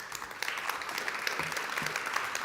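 Conference audience at an innovation and technology stage applauding a presenter being introduced, a steady, moderately loud round of clapping with a few voices underneath.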